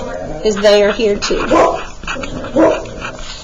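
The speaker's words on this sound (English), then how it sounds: "Sorry about the barking dogs." Dogs bark at home, giving a few loud, close barks in short bursts, mixed with a person speaking.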